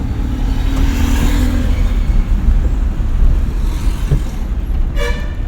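A car in a driving lesson accelerates gently in second gear, with a loud, steady low engine rumble, some road noise, and a brief horn toot near the end.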